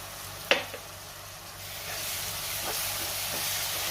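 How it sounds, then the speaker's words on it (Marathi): Ground masala paste for chana masala frying in hot oil in a pan, one sharp clatter near the start, then a steady soft sizzle that swells a little toward the end, no talking. "वाटण आपण तेल सुटेपर्यंत 1 मिनिटभर चांगलं परतून घ्यायचंय"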